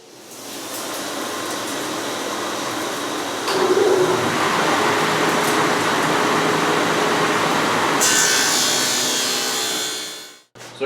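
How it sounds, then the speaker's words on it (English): A saw cutting dado grooves in wood for a cabinet box gives a loud, steady whine that runs for several seconds, brightens near the end as the cut finishes, then spins down and stops. "we're going to go ahead and cut the dados, or the grooves, all the way around"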